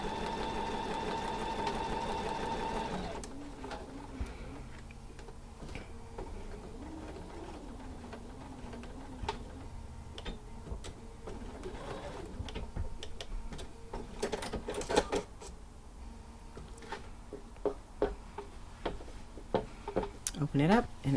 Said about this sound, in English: I backstitched a few stitches. Now I'm going to go forward.